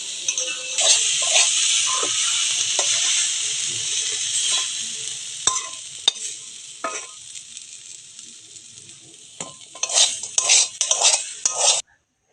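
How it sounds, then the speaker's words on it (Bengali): Cooked peas and fenugreek leaves are stirred in a hot pan, giving a continuous sizzle with scattered scrapes and clinks of a spoon against metal, ending in a burst of quicker stirring. "এবার আমি নাড়িয়ে নেব"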